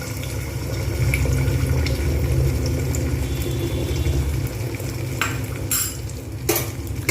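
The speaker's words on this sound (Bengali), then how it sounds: "প্রেশার কুকারে দিয়ে দিয়েছি তেল এর মধ্যেই একেবারে ডিমটাকে ভেজে নেব" An egg fries in oil inside a pressure cooker with a constant close sizzle, joined near the end by a few bright clinks and scrapes of a utensil against the metal pot.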